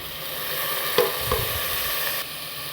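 Ginger-garlic paste and vegetables (carrot, beans, potato) frying in a pan for homemade pulao, with a steady soft sizzle, a couple of brief stirring clinks near the start, and no voices.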